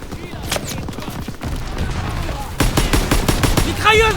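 Machine guns fire in a war video game, rapid bursts of gunfire repeating throughout, sharp and loud, with a voice speaking over the action.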